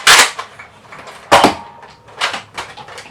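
A tactical pump shotgun fires in Fortnite, three or four sharp, punchy blasts spaced about a second apart, each trailed by a short mechanical clack, close and loud with little else around them.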